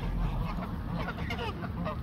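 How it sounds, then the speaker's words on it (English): Geese and ducks, mallards among them, honk and quack continuously outdoors in heavy rain, a dense overlapping chorus of calls under a steady wash of noise. "Ducks, geese, and mallards, guys."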